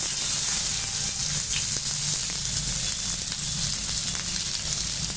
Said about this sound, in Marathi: आणि आता आपण त्याच्यामध्ये कांदा टाकून घेऊ